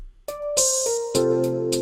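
Synthetic trap-style open hi-hat, a bright hissing cymbal wash repeating in short bursts over a sustained synth tone and bass, part of a beat loop.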